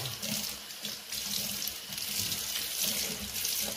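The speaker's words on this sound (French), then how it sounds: "Je commence à rincer les pinceaux que je vais mettre de côté après pour mettre l'après-shampoing." Tap water runs steadily into a sink while makeup brushes are rinsed, a close, continuous splashing hiss with no talk.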